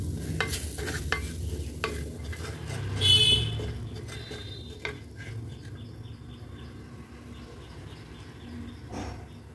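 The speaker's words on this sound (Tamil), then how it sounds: "இப்போ இது எல்லாத்தையும் நல்லா மிக்ஸ் பண்ணி விட்டுருங்க" A spoon scrapes and clinks through onion masala and roasted spice powder in a hot pan, with a soft sizzle underneath and a louder scraping burst near the start before it settles into quieter stirring.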